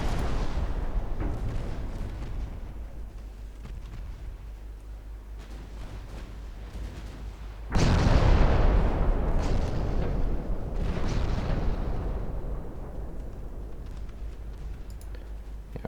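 Naval gunfire in a naval warfare video game, shells landing on an enemy cruiser: a continuous rumbling barrage with a loud heavy impact burst partway through, then sustained booming that slowly fades.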